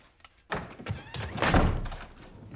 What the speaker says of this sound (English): they're gonna close that door